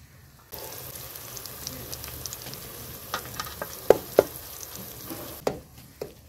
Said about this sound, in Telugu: ఇప్పుడు అల్లము ఎల్లిపాయ దంచుకుని వేసుకుందామండి.